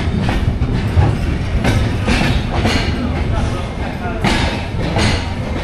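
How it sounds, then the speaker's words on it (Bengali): The Ekota Express passenger train runs on rails in Bangladesh, a loud, continuous rumble with rhythmic clickety-clack wheel beats and occasional thumps, heard from inside the carriage. "আমাদের ট্রেন চলবে পরবর্তী গন্তব্য স্টেশন বিরামপুরের উদ্দেশ্যে"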